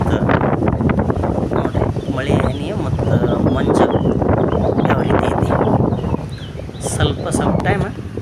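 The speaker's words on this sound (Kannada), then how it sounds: "ಗಾಳಿ ಬಂತು ನೋಡ್ರಿ" Strong gusty wind in misty weather outside a Shiva temple roars and buffets the microphone without a break, a loud rushing noise that fills the whole stretch.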